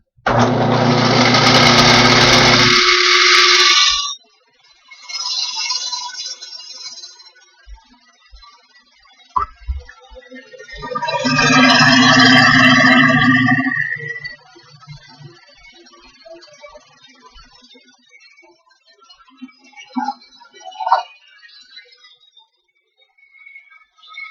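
A Sears Dunlap 109 metal lathe cutting, with loud bursts of motor and cutting noise from roughly 0–4 s and 10–14 s, quieter running and clicks between them.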